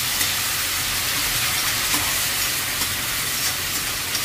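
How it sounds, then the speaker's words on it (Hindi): Tomatoes frying in hot oil with kasuri methi, a loud steady sizzle with faint stirring scrapes, close and continuous without voices. "अब इसे हम अच्छे से भून लेंगे ऑयल छोड़ने तक।"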